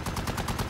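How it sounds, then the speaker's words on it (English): Gunfire in a war movie, a fast run of sharp, loud shots rattling in quick succession over a short burst. "Six, red two, taking sniper fire with LRAS two, over."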